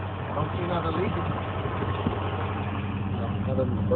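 Old-school car engine idling after a jump start, a steady low rumble with an even mechanical hum, fairly close, with someone talking over it throughout.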